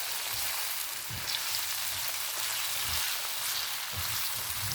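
Broccoli and onions fry in a pan for beef and broccoli, a steady hissing sizzle at moderate loudness with a few soft stirring bumps.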